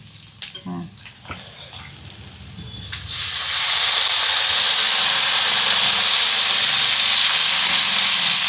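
Tomatoes hit a hot pan of frying onions and green chillies, bursting into a loud, steady hiss and sizzle that fills the room after some clattering and faint voices.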